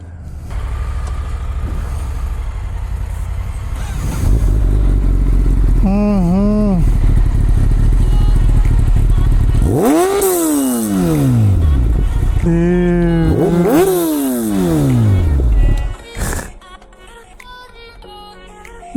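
A motorcycle engine on a city street in Bengaluru revs up and down on the throttle several times, rising and falling sharply, amid steady traffic rumble and occasional voices.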